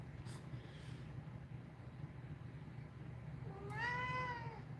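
A house cat meows once, a clear rising-and-falling call near the end, after a quieter earlier sound, over a low steady background hum.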